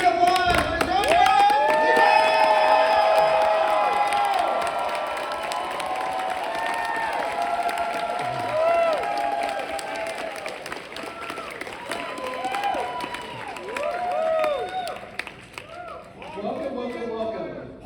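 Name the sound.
convention audience applauding and cheering Giancarlo Esposito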